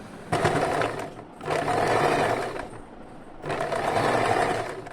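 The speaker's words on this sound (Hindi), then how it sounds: "तो इसी तरह से पूरे गोलाई में मैंने सिलाई लगा दिया है।" Sewing machine stitching a baby frock around its curved neckline, heard in three close runs of steady mechanical whirring separated by brief pauses, with no talking.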